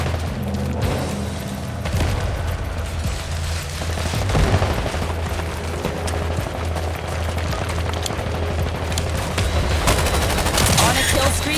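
Gunfire in the video game Combat Champions, dense sustained bursts and booms layered over a steady game soundtrack, loud and continuous throughout.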